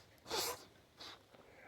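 A person sneezes once loudly and sharply, followed by a smaller second sneeze a moment later, close and alone with no speech.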